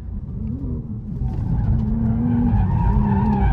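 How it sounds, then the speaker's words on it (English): An all-wheel-drive Audi RS5 with a twin-turbo V6 slides sideways through a corner in third gear. Its tires squeal in a rising wail over a loud, swelling engine drone that builds steadily to the end. "Let's see how good this all-wheel drive twin turbo V6 RS5 that looks like an RS4 can actually slide"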